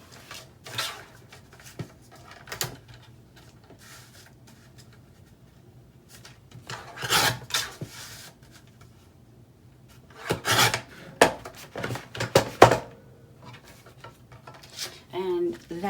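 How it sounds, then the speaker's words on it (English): Mat board being trimmed to size, heard as scattered rasping, scraping strokes in short bursts with quiet gaps and light handling clatter between them. "I'm going to trim this a little bit"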